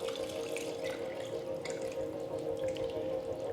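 Water pours steadily into a pot of dirty rice with chicken broth, a faint continuous trickling and splashing close by with no voices.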